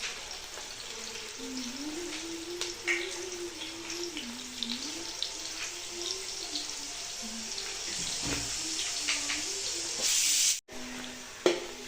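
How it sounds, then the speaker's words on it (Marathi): Chopped onion sautéing in hot oil, a steady close hiss with faint sizzling and a few soft clinks, briefly cut off near the end. "कांदा घालून घेतलाय आता आणि परतायचं काम चालू आहे"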